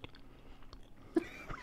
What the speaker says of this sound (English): give us a 2-second chicken chew ASMR